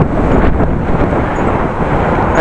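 Strong cold wind buffeting a microphone on a ride past the Paddepoel shopping mall in Groningen, a continuous loud low rumble with gusty swells throughout.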